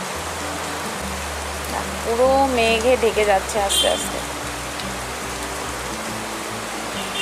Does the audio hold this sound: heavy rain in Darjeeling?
yes